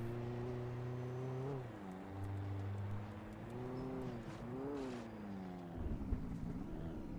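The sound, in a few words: jeep car driving in Alan Wake video game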